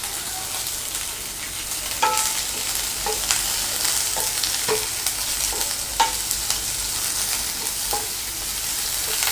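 Chopped onions sauté in a hot pan for restaurant-style chilli chicken, a steady sizzle with a spoon scraping and stirring every second or two, close and clear with no talking.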